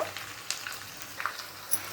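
A tempering of spices sizzles faintly in hot oil for gongura dal, giving a soft, continuous crackle with a few small pops and light stirring taps. No one speaks.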